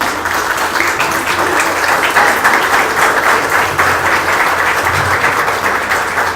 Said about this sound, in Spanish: Demos un fuerte aplauso de nuevo, por favor, a nuestras narradoras, Liliana.